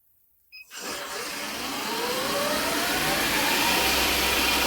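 Shopsmith woodworking machine spinning up from silence and settling into a steady, loud motor whine and hum at 4,000 RPM, running alone with no talk.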